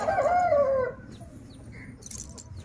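An Aseel rooster gives a loud, close crow in the first second, followed by quieter scattered clucks and faint calls.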